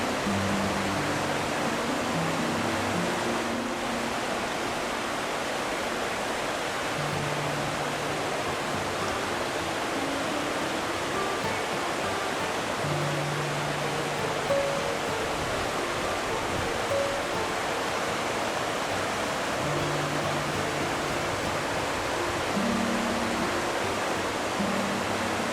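Waterfall cascading into a rock pool near the wine village of Cerdon, a steady broadband rush of falling water heard from a distance, continuous and unchanging with no voices.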